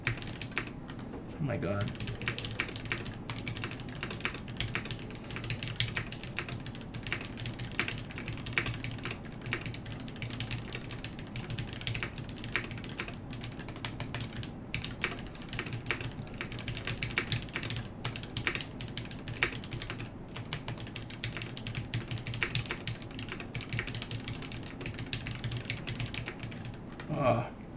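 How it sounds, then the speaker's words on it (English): Steady, rapid clacking of typing on a KBD8X Mk II mechanical keyboard built without foam, close and continuous for the whole stretch, with brief speech at one point. "Here, look, I'll do a type test."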